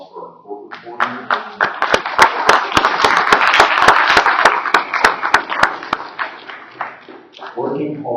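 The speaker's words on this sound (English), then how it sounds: "Can we get a round of applause for our court reporter?" A small room gives a round of applause for a court reporter at the end of a meeting, with sharp, distinct claps that build, hold for several seconds, then taper off as talking resumes.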